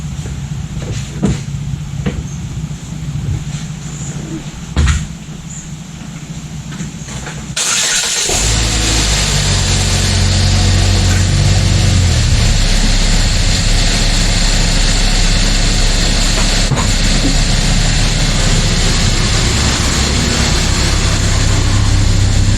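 A car engine cranks and fires after several seconds of quiet shop sounds, then keeps running as a loud, steady close rumble while the car is pulled outside, with no talking.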